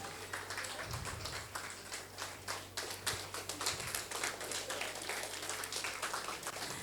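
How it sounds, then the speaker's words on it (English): An audience at an elders' festival applauds an artist and teacher, a continuous wash of many hands clapping at moderate distance, fairly even and sustained throughout. "A huge round of applause for our artist and our teacher."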